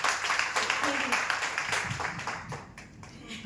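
A gathering gives a short round of applause at a water-user testimonial session, with dense clapping that fades out as voices carry on underneath.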